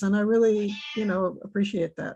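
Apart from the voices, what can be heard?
pet cat meowing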